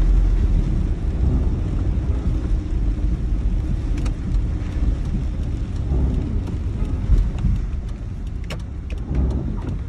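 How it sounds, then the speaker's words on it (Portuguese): Rain drizzles outdoors after a heavy downpour, a steady dense hiss broken by scattered drops, with a low rumble of passing traffic underneath and no voices. "Tá chuviscando, mas ele dá uma trégua da chuva forte e tá bem fraquinha agora."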